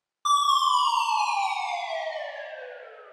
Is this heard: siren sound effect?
yes